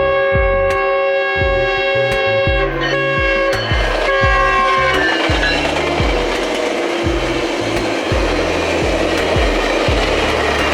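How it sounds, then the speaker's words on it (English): Inbound Metrolink commuter trains sound their horns in several loud, sustained blasts, then pass close by with a heavy rumble and rhythmic clacking of wheels over rail joints. "the first 2 trains here would be 2 inbound Metrolink trains"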